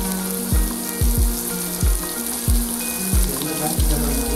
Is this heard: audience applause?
no